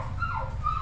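A dog whimpers indoors in a garage during a timing chain job on a 2003 Chevy Cavalier, giving short rising and falling whines over a low steady background hum.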